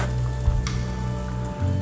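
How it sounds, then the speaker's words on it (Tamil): A pot of sambar with dal boils over a medium-low flame, a close, steady bubbling sizzle with small pops and brief stirring or lid sounds. "நல்லா கொதிச்சுட்டு வருது பாருங்கள்"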